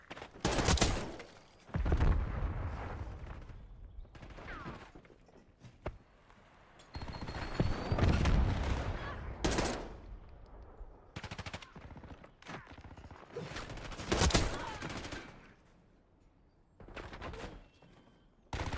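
Repeated bursts of video game gunfire, rapid machine-gun volleys and single shots, loud and close with short gaps between clusters, while a game voice announces combat status.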